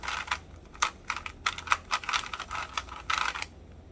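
An old puzzle cube with hard plastic pieces and lubricated turning, producing quick bursts of light plastic clicks and clacks in an uneven rhythm, close and fairly quiet, with no talking.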